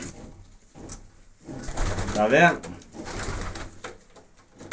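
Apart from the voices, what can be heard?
young pigeons cooing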